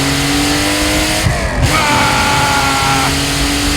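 A Gunther Werks Speedster's engine roars loud and close as it downshifts into third, with the revs dropping briefly and then climbing into a sustained, rising rip.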